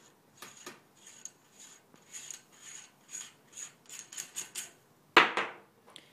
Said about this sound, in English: on the ends of the barrel here, you can grab this, unscrew it